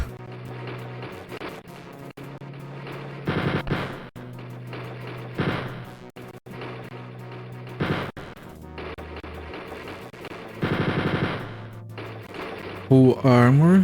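Mecha Hitler's machine guns in Wolfenstein 3D on DOS (1992): several short, sharp bursts of rapid gunfire cut through droning game music, with a rising chirpy effect near the end.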